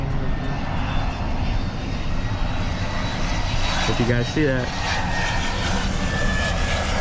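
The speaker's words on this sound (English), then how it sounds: "That's like that's a private jet?" A private jet flies near a small practice airfield where people learn to fly, its engine a steady, moderately loud drone throughout. A person talks casually over it.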